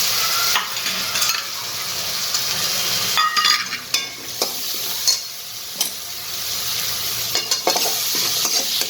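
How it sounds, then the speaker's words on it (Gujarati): Masala for cheese paneer buns being stirred in a hot pan with coriander and capsicum, a steady loud sizzle and fry broken by scraping clinks of the spoon, close by with no talking. "હવે આપણે હલાવી દઈશું."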